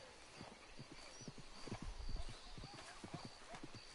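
Horse hooves clip-clopping in quick uneven beats in the video game Red Dead Redemption II, faint and close, with no clear neigh standing out.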